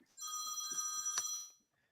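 A telephone bell ringing steadily and close for about a second and a half, bright and sustained, then cutting off into silence.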